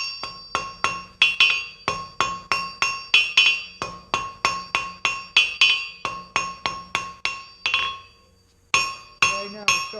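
Hammer striking hot steel on an anvil while forging an icicle Christmas ornament, a near, evenly paced series of bright ringing blows with a short pause before a final few strikes.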